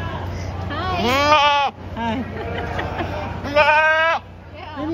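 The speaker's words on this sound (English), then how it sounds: "Ooh, those are goats." Goats bleat repeatedly nearby at a county fair, two long wavering cries standing out, with people chatting quietly underneath.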